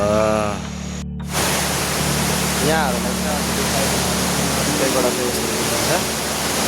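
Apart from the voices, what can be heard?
waterfall at Pepuwa, Makalu rural municipality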